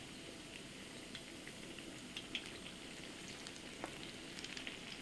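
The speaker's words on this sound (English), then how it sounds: "all the pakoras are frying on the top" Zucchini lentil pakoras deep-frying in oil crackle and sizzle softly and continuously, with scattered small pops, a quiet steady frying sound with no voices.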